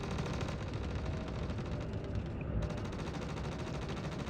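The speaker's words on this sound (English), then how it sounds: "we're going to go to the engineering deck. And there's a firefight underway" Firefight on a ship's engineering deck in the Star Citizen boarding action, a steady wash of distant gunfire and combat noise running throughout, fairly even and muffled, no talk.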